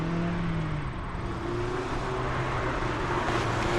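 A new modern Mazda Miata driving at an autocross event, a steady mid-distance engine hum with a slight rise in pitch and loudness toward the end, no talk heard.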